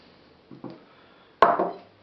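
Roasted, peeled eggplants are chopped on a board with a knife, giving two soft thuds and then a louder pair of close, damp chops.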